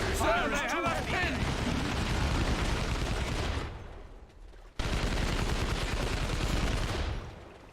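Heavy gunfire rattles in an Imperial Guard video game, a dense burst of shots near and loud, briefly dropping out before the barrage resumes, with voices mixed under the din.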